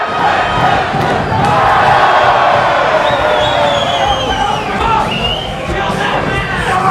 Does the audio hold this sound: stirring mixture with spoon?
no